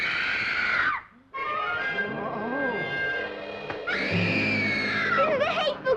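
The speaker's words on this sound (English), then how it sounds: "how loud can you scream?" A loud, high-pitched human scream from a 1957 Robin Hood television adventure, set at Christmas, rising and sustained with a brief gap near the start, then continuing in wavering, wailing cries.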